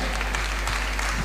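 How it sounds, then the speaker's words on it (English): Audience at a choir festival applauds an ensemble, a brief dense patter of clapping from a large crowd, steady and fairly loud over a low hum. "Please a big round of applause for them."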